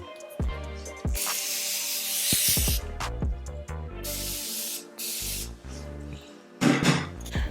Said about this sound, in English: I'm going to be setting my face with my Morphe Continuous Mist.